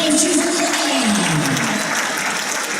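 Audience clapping steadily and fairly loud at a handball club event in Slovenj Gradec, a dense continuous patter that eases off slightly toward the end, with no talk over it.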